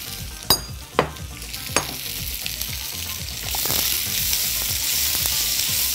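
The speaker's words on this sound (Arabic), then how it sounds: "تقريبا نفس التقليه بتاعت البصل الكشري بس من غير ما هنوصله درجه التحمير" Onions frying in oil in a pan, a steady loud sizzle that grows denser and brighter partway through, with a few sharp clinks of a utensil against the pan early on.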